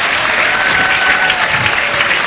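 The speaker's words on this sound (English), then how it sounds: "Appreciative crowd." A crowd applauding at a professional bowling tournament, the 1995 Baltimore Open, with dense sustained clapping throughout and faint voices mixed in.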